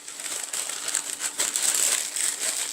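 Parchment paper crinkles and rustles as pie dough is wrapped in it, a close, bright series of crackling crunches that keeps going in uneven bursts, with no talking.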